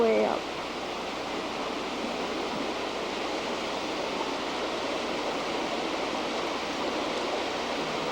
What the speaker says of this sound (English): walking in by the waterfall